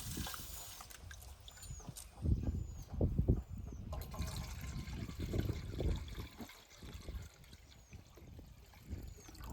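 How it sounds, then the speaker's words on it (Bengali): Rice is washed by hand in a bowl of water for Bengali pulao, with soft splashes and swishing trickles, close and gentle, rising and falling in uneven bursts. "চালটা সুন্দর করে ধুয়ে নিই না।"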